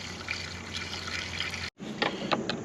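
Motor oil glugging from a bottle into a Ford Explorer ST engine, a close, continuous pouring wash with a brief break as the bottle tips before the flow resumes.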